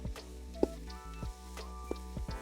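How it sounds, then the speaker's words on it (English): Onions and shallots cooking down in an Instant Pot, a soft close sizzle with a few sharp wet crackles and stirring clicks, no voices. "As you can see, our onions are really cooking down nicely."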